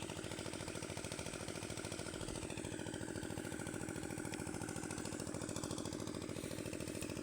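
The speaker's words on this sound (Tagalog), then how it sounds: "Maghapon magdamag ng umaandar yang makina" Farm irrigation pump engine running day and night to water a field, a steady rapid chugging putter that stays constant and even throughout, with no voices over it.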